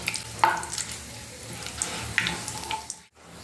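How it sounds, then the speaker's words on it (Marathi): Cumin, a cinnamon piece, small cardamom and bay leaf fry in hot oil and get stirred, giving a soft, even sizzle with a few light spoon clinks and a brief dip in sound just before the end. "हा एक दालचिनीचा तुकडा ही छोटी वेलची आणि हे तमालपत्र हे असं हलवून घेते"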